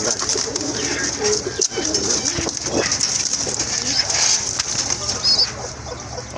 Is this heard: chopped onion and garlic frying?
no